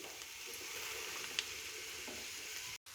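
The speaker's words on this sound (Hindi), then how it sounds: "अब मैं इन तमाम चीज़ों को अच्छे से मिक्स कर लूँगी।" Green chillies, spring onion, tomato, capsicum and cabbage being mixed in a pan for a vegetable cheese samosa filling, with a steady soft sizzle and faint stirring scrapes throughout, no talking.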